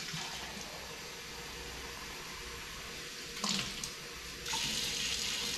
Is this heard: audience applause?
no